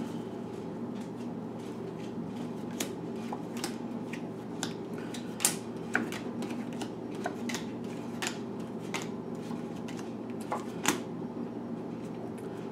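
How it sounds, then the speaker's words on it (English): Soft papery tarot card shuffling with scattered crisp snaps and flicks, close by, over a steady low hum; no talking. "Do I want to shuffle? I feel like I still want to shuffle."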